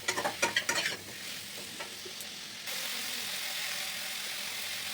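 Curry masala with tomatoes being sautéed in a pan for a fish curry: a few sharp stirring scrapes at first, then a steady, close hiss of sizzling oil that swells louder partway through.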